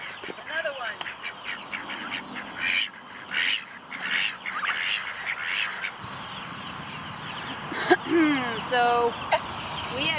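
Turkeys gobble in bursts across a farmyard, with hens and other fowl calling alongside, moderately close and fairly loud, interspersed with a person talking and background farm noise.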